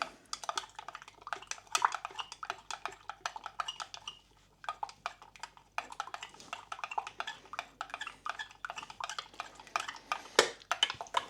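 A spoon stirs a beef mixture laced with wine in a slow cooker, giving a dense, continuous run of clattering clicks and scrapes against the pot, with one brief pause partway through.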